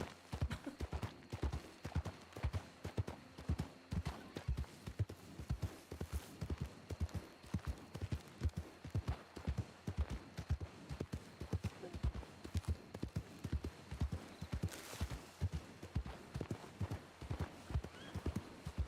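Horse hooves in the Red Dead video game clop in a quick, even rhythm on hard ground, close and continuous for the whole stretch.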